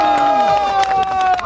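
A crowd claps and cheers together at a village gathering, a bright busy burst of hands and voices with a steady tone running underneath.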